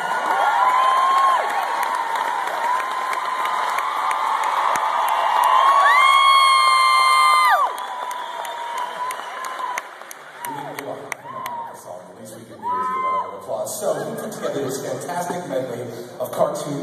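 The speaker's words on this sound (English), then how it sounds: "Give him a round of applause" A concert audience at an a cappella show breaks into applause and cheering, a broad crowd wash that swells and then thins as voices and scattered whoops carry on over it.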